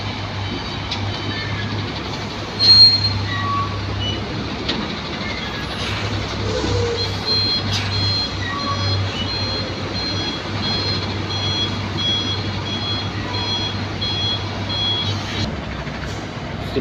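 A refrigerated trailer truck backs into a loading bay at a cold-storage warehouse, its reversing alarm beeping in a steady, evenly spaced rhythm over a low idling engine rumble, with a brief louder thump early on.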